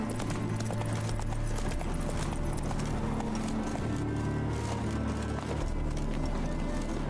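Hooves of Geralt's horse Roach clip-clopping at a steady gallop in The Witcher 3, near and rhythmic over ambient game noise, with no voices.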